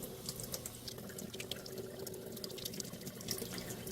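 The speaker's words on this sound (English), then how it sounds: "they say to hold it under running water for 30 seconds" Running tap water pours over the water filter of a Terra Kaffe TK-02 super automatic espresso machine, a steady close splashing flow that continues without a break and without talk.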